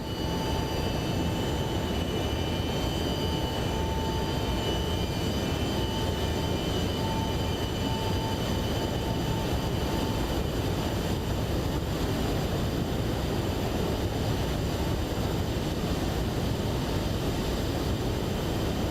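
Steady, loud broadband roar of MD-11F jet engines in X-Plane 12 during descent into Memphis at sunset, a continuous rumble with a faint tonal whine, unbroken for the whole stretch with no talking.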